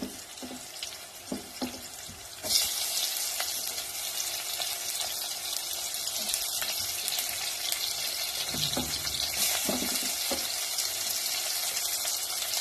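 Tomatoes go into a sizzling vegetable dum biryani masala, a steady frying hiss that jumps louder when they hit the pan and continues with light stirring and occasional clinks, no voices.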